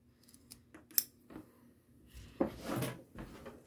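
A rubber belt is snipped through with cutting shears: a few sharp, separate clips and crunches spaced irregularly against a quiet background, one louder cluster near the end.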